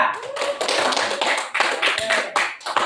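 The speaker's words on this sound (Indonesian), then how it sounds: "kasih aplaus untuk kelompok 2" A classroom group claps in applause for a student group after a peer-teaching presentation, a dense run of overlapping hand claps lasting a few seconds with small dips in loudness.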